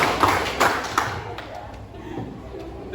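High school students in a classroom counseling session clap three times in a clapping game, three quick claps in succession over a steady room background.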